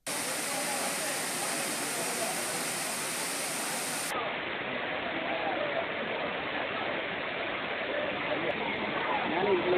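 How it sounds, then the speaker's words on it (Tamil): Water pouring steadily down the falls at Courtallam after rain eases, a continuous dense roar heard up close with no breaks; a voice talks faintly beneath it. "தற்போது மழை குறைந்து சீரான அளவில் தண்ணீர் கொட்டுகிறது"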